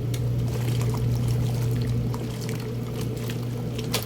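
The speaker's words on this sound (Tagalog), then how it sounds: "itong aking shower pala may purpose na pangsalin ng tubig." Water pouring from a shower hose into a new washing machine, a continuous close splashing and trickling stream with a steady low hum underneath.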